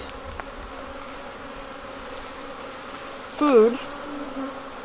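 Honey bees buzz around the hive frames in a steady, soft drone, with one bee zipping close past the microphone near the end; a voice speaks briefly.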